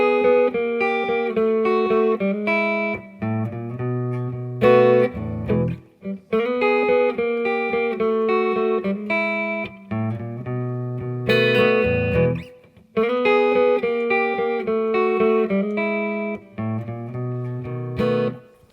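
Electric blues guitar plays a 12-bar blues turnaround variation, slightly overdriven, with repeated phrases of bright picked notes over a low bass figure; loud, close and alone, no voice.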